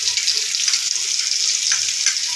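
A turmeric, salt and chilli paste hisses loudly after being poured into hot oil, a bright, steady sizzle with slight surges as it is stirred, and no voices.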